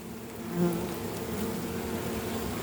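Dense, steady buzzing of many honeybees returning to their hive ahead of rain, a close, continuous drone that swells slightly early on and then holds.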